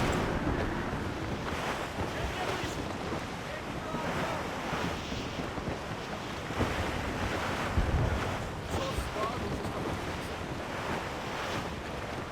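Stormy wind and heavy sea waves surge in the sailing game Assassin's Creed Rogue, a steady, loud roar of surf and gusts that stays continuous throughout, with a brief low thump near the end.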